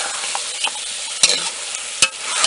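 Karwaru fish pieces sizzle in a pan for curry, a loud close hiss broken by a few sharp spatters and stirring clinks; no talking.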